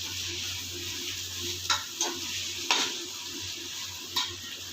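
Green chillies sautéing in a pan for vegetable biryani, a soft, steady sizzle with a few light clicks of a spatula against the pan, faint and without talk.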